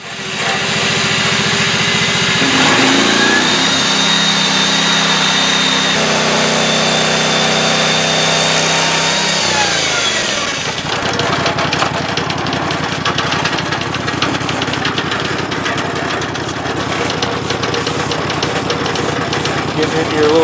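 An engine-driven sawmill cuts a spalted maple log with a loud, steady engine roar. The pitch drops and strains as the blade bites into the wood, then settles into a rattling drone for the rest of the cut.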